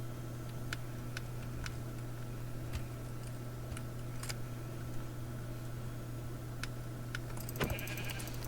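Sheep bleating inside a Minecraft game world, a few short game bleats scattered over a steady low background hum with sharp clicking ticks, no voices.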